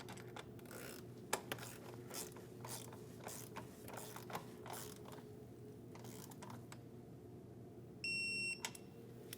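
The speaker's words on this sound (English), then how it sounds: "We're going to be torquing these bolts to 9 Newton meters." A ratchet clicks in short, quick bursts while valve cover bolts are torqued down on a 2010-2015 BMW X1. The clicks are close and crisp over a quiet workshop background, with a brief electronic beep near the end.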